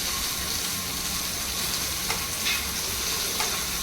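Prawns frying in a pan for a Malvani-style prawn fry, giving a steady close hiss and sizzle throughout, with a few faint scrapes and no talk.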